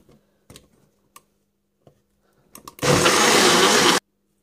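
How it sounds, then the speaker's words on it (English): Blender whirring loudly through protein pancake batter made with protein powder, banana and egg, one continuous burst of a little over a second after a few light clicks and taps from setup. "Now we'll just go ahead and chuck that on the blender."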